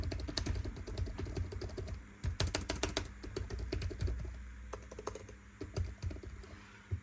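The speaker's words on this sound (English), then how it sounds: "let's talk about the keyboard, and this is how it sounds." Rapid typing on an MSI Crosshair 16 HX laptop keyboard, keys clicking in quick irregular bursts with brief pauses, close and clear.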